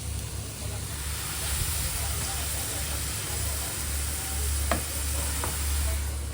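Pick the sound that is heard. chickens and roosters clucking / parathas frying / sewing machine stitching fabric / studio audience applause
parathas frying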